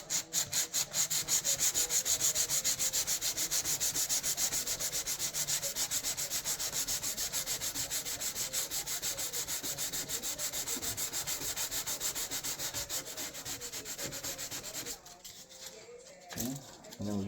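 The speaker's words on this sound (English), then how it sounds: "So I'm going to sand this again with 150." Steady back-and-forth sanding of a steam-damaged wooden door part with 150-grit sandpaper, a dense continuous rasping that runs close and loud, then breaks into a few short, scattered strokes near the end.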